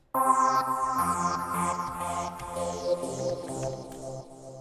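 A bright future bass synth patch, the Above the Clouds preset in Citrus, plays sustained layered chords with repeated sweeping filtered swells on top, continuous and fairly loud with no voices, fading near the end.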